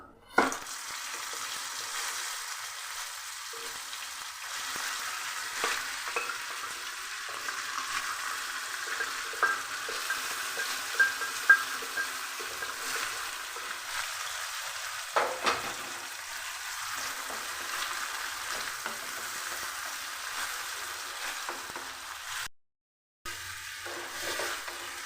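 Chickpea greens stir-fried in a pan with browned garlic give a steady, moderate sizzle through the whole stretch, with faint scrapes from stirring. A brief silence falls near the end before the frying noise comes back. No one speaks.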